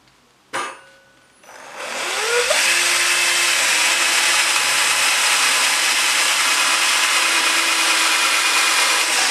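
Close, loud whine of a power drill running steadily with a 4.5 mm bit through furniture material for handle screws, after a short sharp knock; it spins up and then holds an even, continuous tone with no talking.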